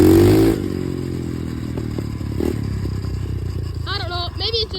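A dirt bike engine runs steadily while riding, with a droning harmonic hum and some rattling and scraping. A loud burst opens it, and higher wavering tones rise near the end.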